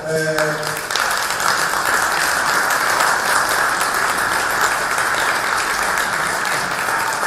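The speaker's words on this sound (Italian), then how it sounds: "un applauso per loro" An audience at a Sardinian cycling awards celebration applauds two honored riders, a dense, continuous round of clapping lasting several seconds, with a voice briefly heard at the start.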